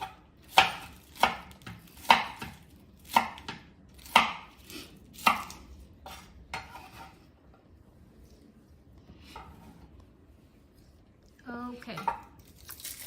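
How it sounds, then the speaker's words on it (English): Scallions chopped with a knife on a board for Jamaican oxtail, about eight sharp, evenly spaced close chops. Softer cutting follows, with a brief voice near the end. "I'm gonna cut the scallions."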